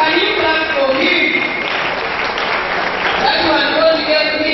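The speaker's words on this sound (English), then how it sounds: "Can you clap for him?" Audience clapping at a memorial lecture, a steady round of applause from a crowd mixed with some voices, moderately loud and continuous throughout.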